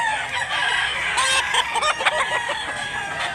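A Lemon Sweater gamecock crows loudly and close in a cockfighting-breed setting in Mantalungon, Cebu, its drawn-out calls rising over a busy background of other fowl clucking.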